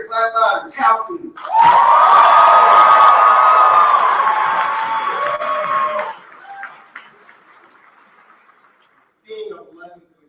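A large audience at an awards ceremony bursts into loud, sustained cheering and clapping with whoops for about four seconds, then it fades to scattered applause, with an announcer's voice heard before and after.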